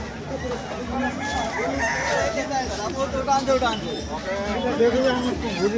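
Chickens at a market crow and cluck amid a crowd, the bird calls rising and falling across several seconds while people talk nearby.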